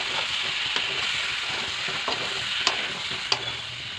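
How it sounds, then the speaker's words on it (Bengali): Boiled taro and potato stirred into a sizzling spice masala in a pan, a steady loud frying hiss with occasional sharp scrapes of the spoon, close and without speech. "দিয়ে হালকা করে একটু নাড়বো"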